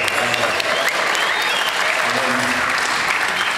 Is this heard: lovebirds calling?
no